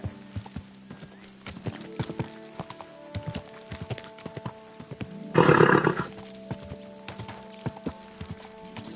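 Horse hooves clip-clop at a slow walk in the Kingdom Come Deliverance 2 video game, a steady close rhythm of hoof strikes, briefly overlaid by a loud snort or whinny midway.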